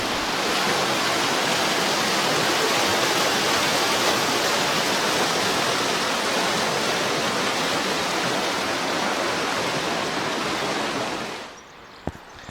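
Mountain river current in the Carpathians rushing loudly and continuously as broad, steady water noise close by, cutting out abruptly near the end.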